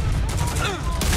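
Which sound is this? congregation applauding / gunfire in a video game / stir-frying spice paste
gunfire in a video game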